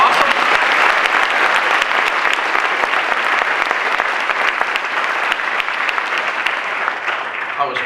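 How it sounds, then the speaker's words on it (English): Sustained audience applause at a corporate speaking event in Atlanta, dense steady clapping from a large crowd filling the whole stretch, loud and close, easing slightly toward the end. "Give them another round of applause."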